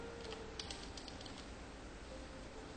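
Computer keyboard keys tap faintly and irregularly, in a few quick clusters, as entries are keyed into Tally ERP 9 accounting software, over a quiet background hum.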